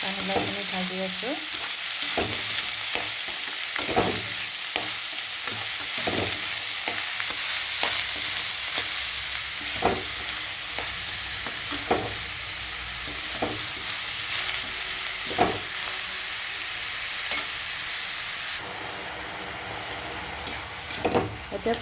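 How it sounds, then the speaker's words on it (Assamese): Bottle gourd is stir-fried with onions in a pan over a continuous moderate sizzle. A spatula scrapes and taps at irregular intervals throughout. "পানীলাওখিনি ভাজি আছোঁ।"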